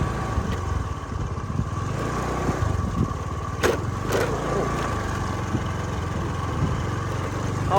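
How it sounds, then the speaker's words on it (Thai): A walking tractor engine chugs steadily in a forest, a close, continuous rattling putter with a couple of brief knocks over it. "ตามห้อยรถไถไป"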